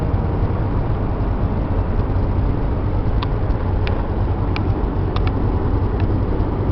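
A Holiday Rambler Class A motorhome rolls down the road at speed, a loud, constant low rumble of engine and road noise with scattered faint clicks and rattles from inside the cab.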